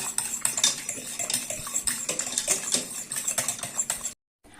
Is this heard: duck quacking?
no